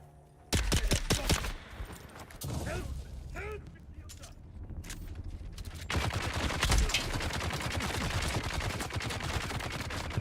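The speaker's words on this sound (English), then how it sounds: "The turret can shoot all the way over there" Turret fire in the video game Chrono Odyssey, a burst of sharp rapid shots followed by a dense, sustained clatter of gunfire and effects, with a voice talking partway through.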